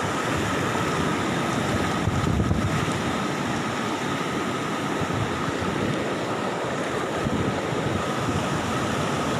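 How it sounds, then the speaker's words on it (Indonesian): Sea waves surge through a row of bamboo beachside food stalls, a continuous loud rushing wash of water with wind buffeting the microphone, and no voices. "Begitu kencangnya air memasuki kawasan warung. Saya tidak bisa berani melanjutkan karena ombak semakin tinggi."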